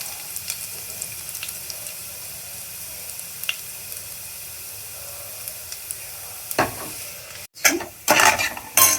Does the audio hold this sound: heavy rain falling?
no